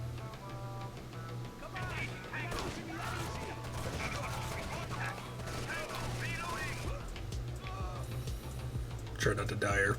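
Gunfire in the tactical shooter Rainbow Six Vegas 2, with sharp shots and bursts scattered through a dense, steady game soundscape, under a low hum and occasional talk.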